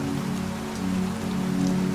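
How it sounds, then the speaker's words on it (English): Rain from a video being shown patters steadily on a surface, a dense, even hiss with no voices. "Getting the rain to go in the right direction and follow the camera."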